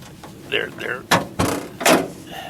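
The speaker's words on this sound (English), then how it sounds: "If you push the button, That's the Abarth special handle." The door of a red 1960 Fiat Abarth Allemano 750 GT, a 2-door car built from a Spider, opens with its special push-button handle, giving several close clicks and clunks while people talk.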